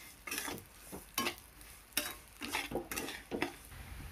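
Broken wheat is stirred and roasted in ghee in a pan for a jaggery lapshi, with a series of scraping spoon strokes, about seven in a steady rhythm, over a faint sizzle and no talk.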